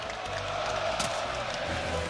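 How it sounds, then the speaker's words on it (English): Dense crowd roar and cheering fills a basketball video game arena set in Brooklyn, a steady loud wash of voices with a brief swell in the middle. "And he fires up this crowd."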